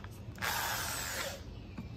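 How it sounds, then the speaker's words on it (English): A power drill whirs steadily for about a second, driving a screw while building a tomato trellis, then winds down, close by with no talking. "I use my drill to screw my first screw in to hold it in place"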